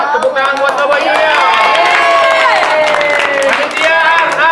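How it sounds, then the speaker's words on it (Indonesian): A crowd applauds and cheers for Coboy Junior at a school birthday celebration, with loud, dense clapping and excited voices filling the space throughout. "sukses buat tepuk tangan buat Koboy juga"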